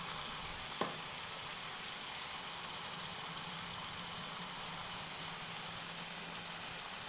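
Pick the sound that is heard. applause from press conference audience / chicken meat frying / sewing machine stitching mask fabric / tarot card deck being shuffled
chicken meat frying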